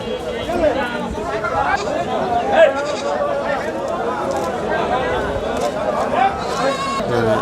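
Young native goat kids bleat repeatedly at a busy livestock market in Nilphamari, their cries mixed into constant crowd chatter and someone talking nearby.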